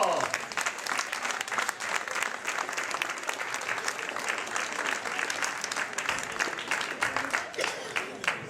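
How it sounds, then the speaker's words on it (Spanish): An audience at a puppet show applauds the second puppeteer with lively, dense clapping from many hands, sustained and fairly loud, with some voices mixed in beneath it. "Un aplauso para el segundo titiritero."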